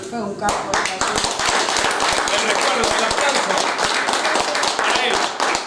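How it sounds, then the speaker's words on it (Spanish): A bar crowd claps hard in a farewell tribute to a closing old tango bar, a dense, steady burst of many hands sustained near and loud throughout, with voices mixed in beneath. "quiero pedir un fuerte aplauso eh, para el recuerdo"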